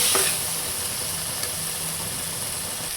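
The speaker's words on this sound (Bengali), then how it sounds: "এবার আমি লতির মুখিগুলো দিয়ে দিব, দিয়ে ভালোভাবে কষাবো।" Taro stolons frying and being stirred in oil in a pan for a snakehead fish-head curry, giving a steady, even sizzle that holds at one level for the whole stretch with no voices.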